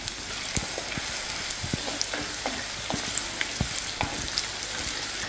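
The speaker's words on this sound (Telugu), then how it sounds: "ఉల్లిపాయ, పచ్చిమిరపకాయని ఒక 2 నిమిషాలు బాగా వేయించుకుంటాను." Chopped onions and green chilies fry in a pan with a continuous crackling sizzle, dotted with small pops and occasional stirring taps, heard close up and without any voices.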